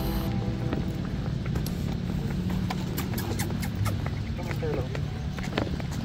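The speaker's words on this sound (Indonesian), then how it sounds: "yuk kita lihat aksinya Jonah naik kuda poni guys ya" A pony carrying a child at Bedugul, Bali, clip-clops in light, irregular hoof taps over a steady outdoor murmur, with voices nearby.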